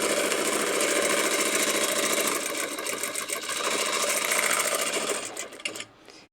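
Sewing machine stitching during free-motion quilting, a fast continuous mechanical whirr with rapid needle ticking, close and steady, slowing and stopping at the end.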